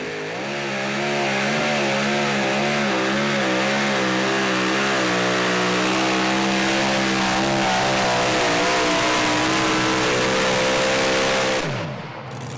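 An unlimited super stock pulling truck's engine roars loudly and continuously at a pull, its pitch rising and wavering as it hops and revs, then cutting off abruptly near the end.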